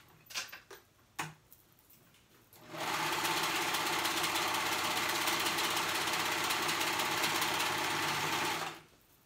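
A sewing machine stitches fabric edges for an off-shoulder romper, starting after a few clicks and handling noises, then running loud, fast and steady for about six seconds before stopping abruptly.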